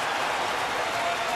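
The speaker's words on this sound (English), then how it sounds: "Now the crowd really into it" A crowd roars at a Houston Astros home baseball game against San Diego, a steady broadband wash of cheering that is loud and sustained, with a commentator's voice faintly underneath.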